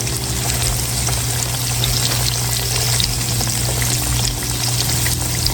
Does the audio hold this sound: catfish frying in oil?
yes